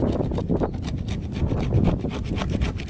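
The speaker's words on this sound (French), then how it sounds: "avec le rifle là, eh ben, on gratte, on gratte, on gratte." A rifler file scrapes steadily across the roof of a camper van during sealing work, a close, continuous rasping and rubbing with uneven strokes and no pauses.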